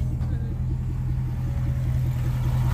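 A Lexus V8 car engine rumbles at a steady low idle, loud and close, with a constant deep drone and a voice talking faintly over it.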